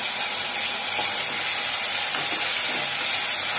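Tomatoes hit onions that have been fried until reddish, giving a loud, steady sizzle and hiss that runs unbroken throughout with no one talking.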